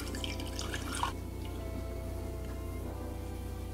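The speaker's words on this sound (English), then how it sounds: "get a strainer with a cheesecloth, just pour it right into that, into whatever vessel you choose once again" Cold brew coffee poured through a cheesecloth strainer into a vessel, giving a faint liquid trickle and drip with a brief splash near the start over a steady low hum.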